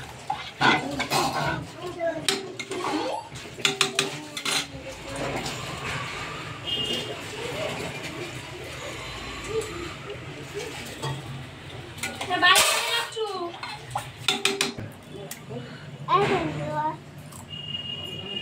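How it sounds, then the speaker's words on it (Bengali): A spoon stirs khichuri in a cooking pot at home, giving intermittent scraping and metallic clinks against the pot. Voices and household sounds carry on around it. "দেখবে ভালোটি করে নেড়ে নিচ্ছে।"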